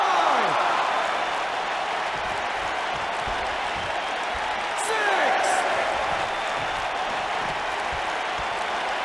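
A wrestling arena crowd in the WWE 2K19 video game keeps up a steady roar of cheering and applause throughout, a loud, dense wash of noise with no break.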